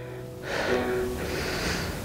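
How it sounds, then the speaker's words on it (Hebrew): Deep yoga breathing during a heart-opening pose, a slow audible inhale followed by a long exhale, close and soft, with no talking. "ואני נושמת פה 2 נשימות אם אפשר."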